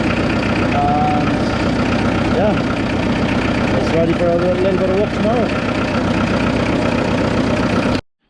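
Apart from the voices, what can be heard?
International B-275 tractor engine idling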